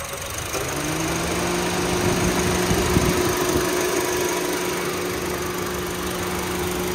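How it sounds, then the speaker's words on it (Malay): A 2013 Honda City 1.5 E engine idling with the air conditioning running, a steady close hum with a constant low drone and faint mechanical ticking, heard with the bonnet open and no talk. "Enjin on, aircon pun buka"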